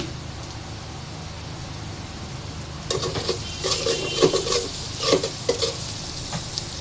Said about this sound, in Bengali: আমার পেঁয়াজটা ভাজা হয়ে আসছে। এখন কতগুলো কাঁচামরিচ ফালিয়ে দিয়ে দিব, কাঁচামরিচ দিয়ে দিলাম।